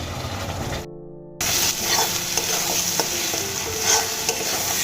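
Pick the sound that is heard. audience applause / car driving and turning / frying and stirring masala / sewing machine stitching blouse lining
frying and stirring masala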